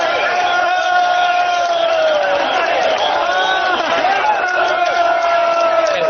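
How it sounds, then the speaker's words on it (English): Crowd at a Workers' Party election rally for Jalan Besar GRC in Singapore's 2015 general election cheers loudly and continuously, with many voices shouting and chanting in a sustained roar. "The crowd is now in a frenzy."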